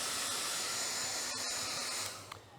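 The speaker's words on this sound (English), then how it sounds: "I'm going to use the hair dryer on him because he's a little wet." A hair dryer blowing on a freshly base-coated clay werewolf figure, a loud steady airy roar that holds for about two seconds, then eases off and cuts out near the end.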